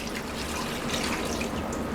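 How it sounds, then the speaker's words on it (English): Thick oxtail gravy mixture with flour pours steadily into a pot over oxtails, a continuous close liquid splashing and trickling with no voices. "We're going to pour all of this over our oxtails."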